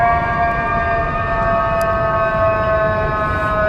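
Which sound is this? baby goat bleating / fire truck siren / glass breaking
fire truck siren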